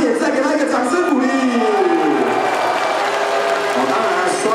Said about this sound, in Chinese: 再给他一个掌声鼓励